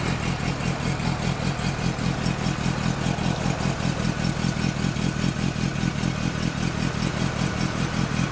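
A Honda CB400 Super Four four-cylinder motorcycle with a Moriwaki aftermarket exhaust idling nearby, a steady, rapid throbbing rumble and raspy exhaust note, holding an even rhythm throughout.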